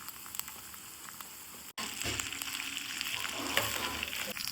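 Okra with garlic, curry leaves, mustard seeds and cumin stir-frying in oil in a kadai: a quiet, steady crackling sizzle that briefly cuts out, then returns fuller and louder with faint stirring.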